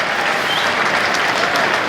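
A cricket crowd at an England v New Zealand Test match applauds a batsman's full defensive shot with steady, dense clapping that carries on throughout and has no voices over it.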